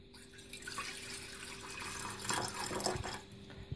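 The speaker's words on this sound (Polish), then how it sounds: "To wszystko zalewamy wodą." Water poured over sliced ginger and cayenne pepper while making a ginger detox drink, a steady splashing trickle that grows louder toward the end, close by and alone.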